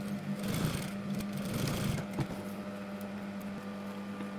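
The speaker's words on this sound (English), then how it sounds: "Sew the gap closed." Sewing machine stitching a gap closed in denim jeans, a steady continuous motor hum with a running mechanical needle chatter, close and alone throughout.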